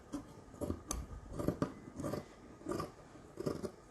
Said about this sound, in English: Take my scissors. And I'm going to cut across.